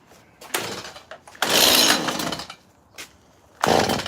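A chainsaw fitted with a new spark plug sputters and catches in short bursts, then runs loud and close for about a second before cutting out and firing again briefly.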